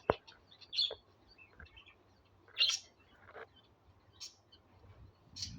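A pet bird being offered guava gives short, sparse chirps, a few bright bursts spaced a second or two apart, close but quiet, with soft talk nearby.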